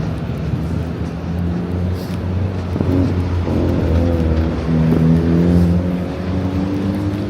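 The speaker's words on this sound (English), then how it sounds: "Motorcycle." A motorcycle passes on a Manhattan street, its engine droning close and loud with a rising, shifting pitch over the city background.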